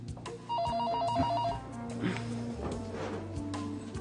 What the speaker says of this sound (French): Gustl, téléphone, c'est très urgent.